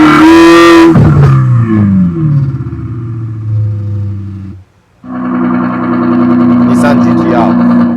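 An electronic exhaust fitted to a 2020 Mercedes CLA180 coupe plays a simulated Ferrari 488 GTB engine sound, with a loud rev that falls into a steady drone, a brief gap, then more sustained engine tone.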